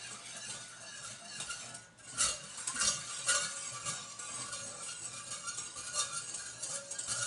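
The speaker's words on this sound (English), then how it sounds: "We are whisking." A mixture whisked in a bowl until dissolved, a busy run of metal whisk scraping and clinking against the bowl, moderately close, with one brief pause before the strokes resume, no voices.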